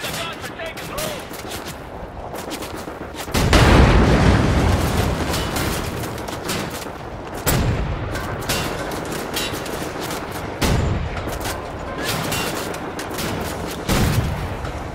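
A mounted gun in the video game Wolfenstein: The New Order fires in loud, rapid bursts of heavy gunfire, several sustained volleys separated by short pauses, with booming impacts throughout.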